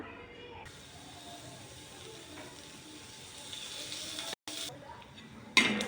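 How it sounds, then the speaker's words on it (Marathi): Onion and coconut dry-roasting in a pan for puran poli, giving a steady low sizzle and soft stirring scrapes throughout, with a brief sharper clatter near the end. "कांदा आणि खोबरं भाजून घ्यायचं आपल्याला"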